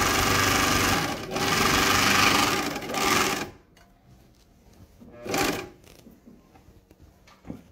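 A straight-stitch sewing machine runs a seam through thick coated sofa-cover fabric, a loud, close, continuous whirring clatter for about three seconds, then a brief second burst after a pause, alone without talk.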